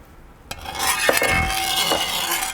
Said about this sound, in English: So now we're going to add water.